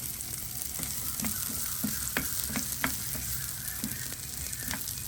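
Onion and garlic frying in a pan for chutney until golden, giving a constant crackling sizzle with repeated close spatula taps and scrapes spaced through the clip and no talking.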